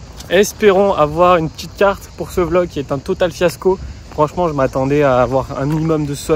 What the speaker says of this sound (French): Et puis, vous entendez ces cigales là, ça fait plaisir.